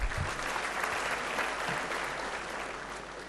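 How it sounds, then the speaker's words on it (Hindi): Audience applause in an assembly hall at a Jat community convention, a steady, dense roar of clapping from a large crowd lasting throughout. "सब इनके सम्मान में जोरदार तालियां बजाएं"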